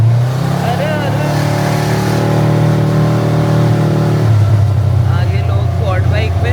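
A quad car buggy engine drones steadily and loudly while riding through hilly streets in Greece. A low, continuous motor hum is heard with slight revving swells, and people talk over it.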